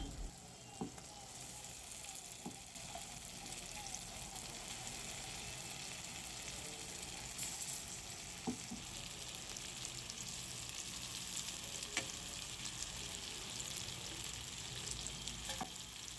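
Marinated jackfruit and potato pieces fry in oil with softened tomatoes, giving a steady, dense sizzle that runs throughout. Faint clicks of stirring come through now and then.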